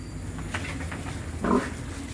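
A sow on an Indonesian pig farm, mother of four-week-old weaned piglets, gives a single low grunt midway through, rising above steady barn background noise.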